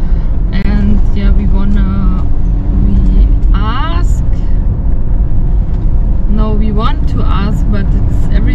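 A car drives along a road, its engine and road noise a loud, steady rumble filling the whole stretch, while people talk over it inside the cabin.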